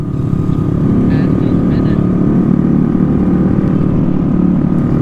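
A Honda Navi scooter engine held at very high revs gives a loud, steady, buzzing drone close by with no letup. A faint voice sits under the engine noise.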